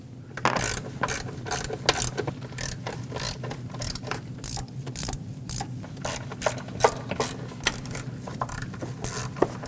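Ratchet tightening valve cover bolts on a 2005-2021 Nissan Frontier with the 2.5L four-cylinder, a close, steady run of rapid metallic clicks in short repeated bursts throughout.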